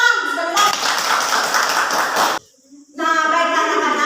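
Schoolchildren in a classroom give a burst of applause lasting about two seconds. A teacher's voice comes before and after it, and the clapping is loud and close.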